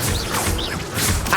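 A Levioso levitation spell is cast in Hogwarts Legacy, a burst of whooshing magical effects and a crashing impact over dense game background sound.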